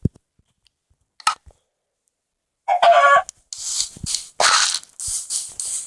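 Blocky video-game chickens cluck in a few short bursts, a faint chirp first, then a dense run of loud, close squawks and clucks near the end.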